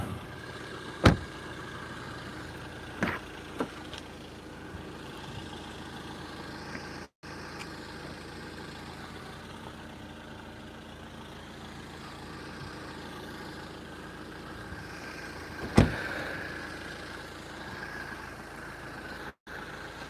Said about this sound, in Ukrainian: Робота двигуна прекрасна.